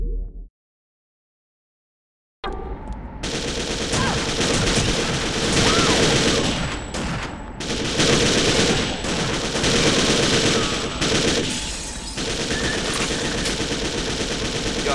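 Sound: machine gun fire in the video game Second Sight

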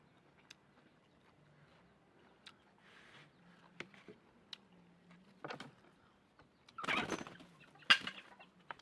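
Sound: chickens and rooster clucking

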